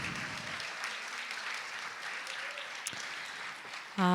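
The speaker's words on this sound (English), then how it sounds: "Let's give another round of applause for Vanessa" Audience applause at a community book launch and talk, a steady wash of clapping that holds through the whole stretch before a sudden louder burst right at the end.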